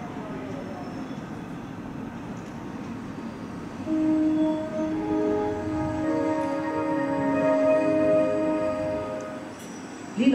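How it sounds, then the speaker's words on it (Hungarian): Tettye InterCity train of České dráhy pulling into a platform at a Budapest station, a continuous rolling rumble with rising and falling tonal squeals of wheels and brakes, ending in a sharp bump. "Tettye Intercity vonat érkezik Pécs felől az 5. vágányra."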